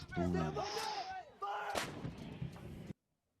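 An M777 155mm howitzer fires with a loud, sharp blast and rumbling boom that cuts off abruptly. A voice is mixed in around the shot.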